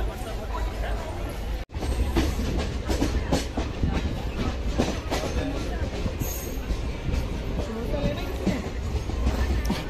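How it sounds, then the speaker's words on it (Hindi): A Janshatabdi Express train runs on rails while arriving at Rampur Junction, with a continuous loud rumble and rhythmic wheel clatter heard from on board, briefly cut at one point. "अभी हमारी ट्रेन का अराइवल हो रहा है रामपुर जंक्शन पर।"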